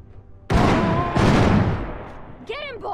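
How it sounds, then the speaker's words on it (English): Gunfire rips through a battle in the video game Iron Harvest, two loud sustained bursts of shooting close by, followed by a brief voice at the end. "They're shooting!"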